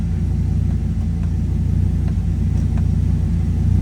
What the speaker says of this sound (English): Now I'm just going through my gears.